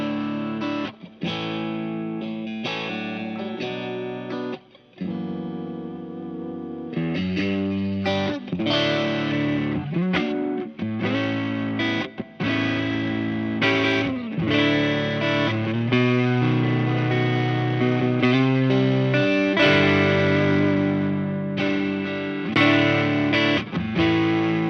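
Electric guitar played through a PastFX Chorus Ensemble MN3007 pedal with the effect bypassed, a dry, driven tone with strummed chords and picked lines, fairly loud and continuous with brief pauses, no talking.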